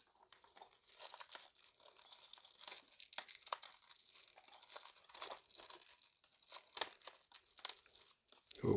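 Crinkly plastic packaging on a 1997 Warhammer 40,000 Carnifex box is pulled and torn open up close, giving dense, irregular crackles and rustles that keep going for several seconds with no talking.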